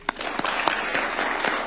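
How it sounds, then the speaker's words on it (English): Audience clapping during an official state visit ceremony in Kenya for Malaysia's prime minister, fairly soft and scattered hand claps over a couple of seconds in a large space, heard alone without talk. "And a clap would be good."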